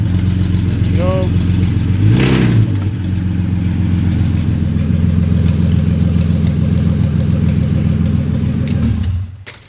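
A Toyota MR2 turbo cranks with a short whine, then catches and settles into a loud, steady idle close by, and the engine cuts off near the end.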